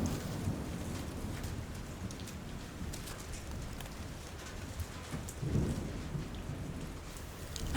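Steady rain pours down through a thunderstorm, with low rolls of thunder swelling in the background, a continuous close wash of drops and no voices.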